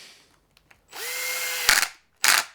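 Cordless power drill on a low torque setting tightening a fastener during an RC 4x4 truck's steering and links rebuild: a short whirring run-up, then two brief loud clutch-slipping bursts, close and without talk.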